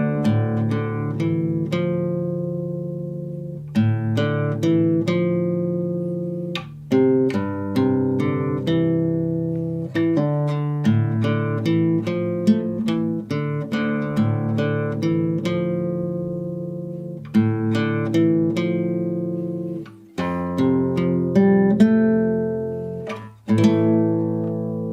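Guitar tuned to drop D plays a tune from The Witcher 3: Wild Hunt, a clear solo melody of plucked notes and chords in several phrases with brief pauses between them.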